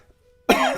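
A single sharp cough bursts out after a brief near-silence, close and loud.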